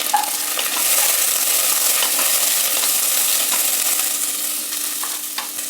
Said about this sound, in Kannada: ಈರುಳ್ಳಿ ಹಾಕಿದ್ದೀನಿ